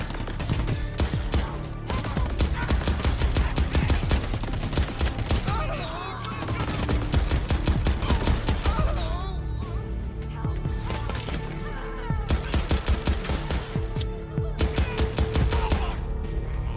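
Rapid gunfire from enemy thugs and the player in the video game Crackdown 3, dense and continuous with clustered bursts throughout, layered over game effects and music.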